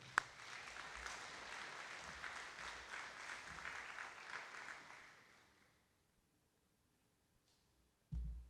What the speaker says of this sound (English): Let's give them another hand, please.